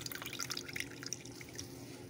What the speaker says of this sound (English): I'm gonna get done straining all the juice out of it.